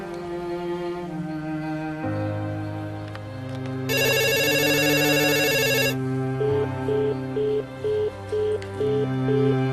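Electronic phone ringtone over a tonal musical bed: a bright sustained ring in the middle, followed by a repeating pulsed melody, loud and close.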